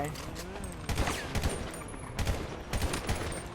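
Bursts of gunfire in GTA V zombie-war gameplay, two or three clusters of rapid shots at close range over a steady game background, with a voice speaking in between.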